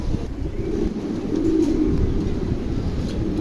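Andalusian pigeons coo softly at close range, with low rolling calls over light wind noise on the microphone.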